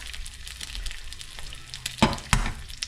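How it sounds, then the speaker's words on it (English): Eggs fry in a pan with a soft, continuous sizzle, close and fairly quiet, broken by a few sharper crackles and pops near the end, no talking. "That's that sizzle I like to hear."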